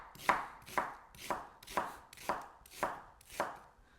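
A knife chops food on a board while a chicken dish is prepared, with seven crisp, evenly spaced strokes close by and no speech.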